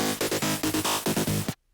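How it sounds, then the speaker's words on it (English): Gated gritty psytrance synth pulsing in an uneven galloping rhythm of short bursts, loud and close, cutting off abruptly into silence near the end. "You get a nice like galloping sound."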